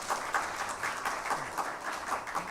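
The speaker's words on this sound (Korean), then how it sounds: "우리 은혜로운 찬양해 주신 성가대원들에게 다시 한번 감사의 박수하겠습니다." A chapel audience at a university worship service applauds the choir in steady, dense clapping that carries evenly through the room at moderate volume, with faint voices underneath.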